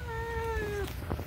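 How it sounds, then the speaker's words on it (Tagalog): Young male cat giving a single clear, drawn-out meow that falls in pitch, close by, with a low background hum and a soft trailing noise after it. "Ito yung binata namin pusa."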